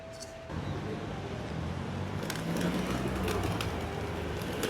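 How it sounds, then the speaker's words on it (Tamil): Pigeons cooing at a hillside temple in Cameron Highlands, soft low coos repeating over a busy outdoor background with faint traffic, fairly close, with no talk over them. "புறா எல்லாம் இருக்கு."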